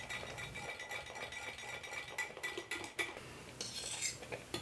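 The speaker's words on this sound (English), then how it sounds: "we're going to gradually whisk and stir half of this mixture into our egg yolks" Chocolate mixture is whisked into egg yolks in a bowl: quiet, rapid clinking and scraping of a metal whisk against the bowl, continuous with a few sharper taps near the end.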